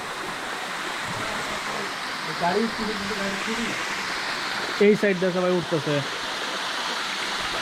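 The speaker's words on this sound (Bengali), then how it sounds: "ঝর্ণার ছোট একটা পার্ট।" Small cascade of a waterfall at Sonaichhari in Mirsarai, Chittagong, its steady broadband rush of water running throughout, with people talking nearby in two short bursts over it.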